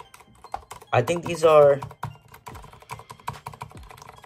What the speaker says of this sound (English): this is the keyboard I have. Corsair Strafe Mark II.